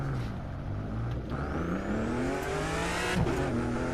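Turbocharged car engine revving in the racing game The Crew 2, driven through Miami; a steady, loud engine drone with rising pitch as it accelerates, continuous throughout with no talk.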